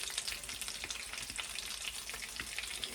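Potato pancakes fry in a pan, giving a steady, close, crackling sizzle of hot oil with no one talking.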